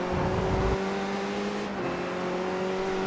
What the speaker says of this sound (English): From 4th gear down to 1st for this right-hander.